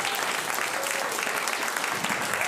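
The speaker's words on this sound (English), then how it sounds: "Come on, start the clapping." Comedy club crowd in London applauding, a continuous dense burst of many hands clapping, loud and steady throughout the short stretch.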